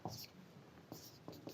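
Marker or chalk strokes write words on a board during a church lesson, a few quiet scratchy strokes spaced irregularly, close and faint, with no talking.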